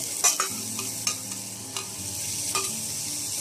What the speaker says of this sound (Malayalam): ഇതിൻ്റെ റോസ്മെൻ മാറുന്നത് വരെ നമുക്കിത് നല്ലതുപോലെ വഴറ്റിക്കൊടുക്കാം.